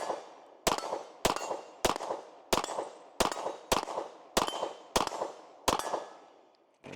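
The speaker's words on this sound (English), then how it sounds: "that right there has us right at 600 rounds with the Nighthawk Sandhawk Single Stack" Nighthawk Sandhawk Single Stack pistol firing outdoors, nine sharp loud shots at a steady, unhurried pace, each followed by a short ringing decay.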